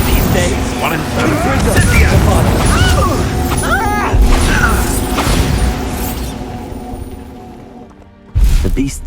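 Fiery blasting-spell explosions in Hogwarts Legacy near a castle, several loud booming crashes and clattering impacts over busy game sound, a sudden loud blast near the end after a brief lull, with a voice speaking.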